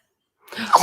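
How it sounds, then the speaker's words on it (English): A single close sneeze after a moment of silence, sharp and breathy with a voiced tail. "Her eye is watering and she's sneezing."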